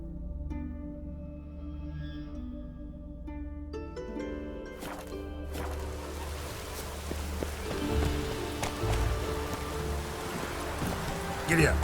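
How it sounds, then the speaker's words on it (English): Rain falling in the video game The Witcher 3: Wild Hunt, a steady hiss that swells in after a few seconds of soft tonal game music and continues as a dense, even wash. "Looks like rain."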